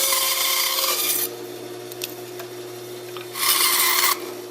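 A saw cuts the side view of a wooden fish decoy in two long rasping strokes with a quieter stretch between them, close and steady over a low hum, with no talk.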